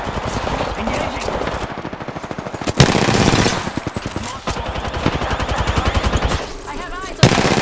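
Rapid automatic gunfire from an Apex Legends firefight, loud dense bursts with short pauses and sharp single shots, mixed with game sound effects and brief voice callouts.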